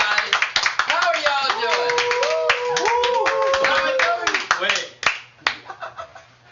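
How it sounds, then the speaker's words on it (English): Audience applause greeting MrBeast on the Fishtank live show set, a dense burst of close hand clapping with some laughter that fades after about five seconds before talk resumes. "Give a big fish tank round of applause for Mr. Beast."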